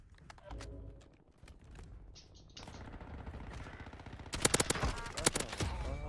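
Gunfire in Call of Duty Warzone, scattered sharp shots and short automatic bursts at moderate distance, growing denser and louder toward the end, mixed with game ambience.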